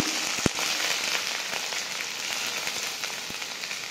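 Curry leaves, green chilies and chopped onion sizzle in hot oil in a pan for sabudana poha, a dense steady crackle with a sharp pop near the start and a few more scattered pops.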